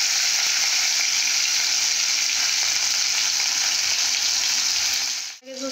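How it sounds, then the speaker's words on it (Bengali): Sliced bitter gourd fries in oil in a pan used for frying fish, giving a loud, constant sizzle close by that continues unbroken and cuts off sharply at the end. "এরপর মাছ ভাজা কড়ার মধ্যে আমি উচ্ছেগুলো ভেজে নেব।"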